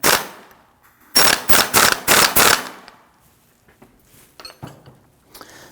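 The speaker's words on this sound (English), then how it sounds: "make sure it's good and tight with your impact gun" A pneumatic impact gun tightens the strut nut on a 2001-2009 Volvo S60 front strut, with one burst followed by a loud rapid string of hammering rattles close by, then quiet clicks and handling noises.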